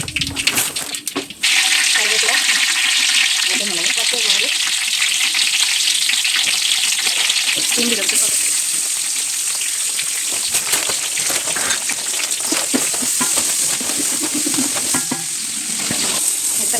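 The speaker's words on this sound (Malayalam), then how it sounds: "ചൂടായതിന് ശേഷം കടുക് ഇടണം കടുക് ഇട്ടിട്ട് കടുക് പൊട്ടിയതിന് ശേഷം" Loud, steady crackling and spitting of mustard seeds popping in hot oil, continuous after a brief opening moment, with occasional faint voices underneath.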